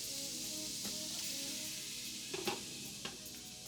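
Beef Spanish rice sizzling steadily in a pan, a constant hiss with a few faint stirring clicks and taps, no voices.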